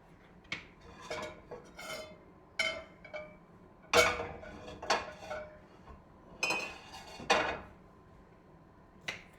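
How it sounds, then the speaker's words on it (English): Knife chopping fresh ginger on a cutting board for chicken teriyaki, a series of crisp, close taps and knocks in an uneven rhythm with short pauses, no talking. "Anyway, back to cutting up my ginger."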